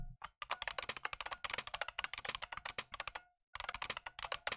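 Rapid typing on a computer keyboard triggers simulated IBM Model M buckling-spring key clicks, a dense, crisp stream of individual clacks in quick bursts separated by a short silent gap, heard alone without voices.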